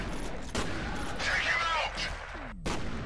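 Gunfire in the shooter game F.E.A.R., several sharp gunshots and bursts with booming tails and whooshing effects, loud and close, while someone talks over the action.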